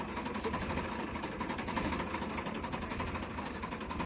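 A Ford tractor engine runs at a steady idle with a fast, even mechanical chugging that does not let up.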